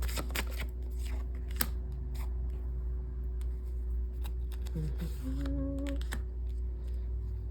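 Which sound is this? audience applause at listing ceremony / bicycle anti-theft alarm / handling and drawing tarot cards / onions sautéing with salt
handling and drawing tarot cards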